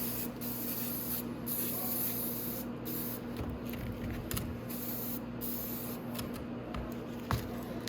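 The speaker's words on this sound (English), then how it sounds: "I really like brake clean for cleaning stuff like this." Brake cleaner sprayed onto dirty parts of a Venom 250cc Villain chopper motorcycle under restoration: a loud, steady aerosol hiss that runs almost without a break, with brief pauses and a low hum underneath.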